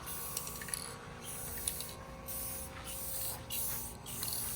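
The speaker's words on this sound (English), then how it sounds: "we're definitely gonna take our time and do far away coats, kind of like this, and really mist it on there" Spray paint misted in light, distant coats onto a Maverick 88 or Remington 870 shotgun for a camo finish, a series of soft hissing bursts separated by short pauses.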